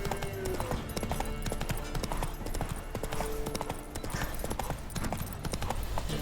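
Hooves of the horse Roach clop steadily in The Witcher 3 video game, a continuous rhythmic trotting beat heard up close over a busy background of game ambience and music.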